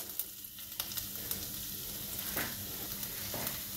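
Garlic and chili fry in a pan over a high flame, giving a steady, close sizzle with scattered crackles and a few light clinks of stirring.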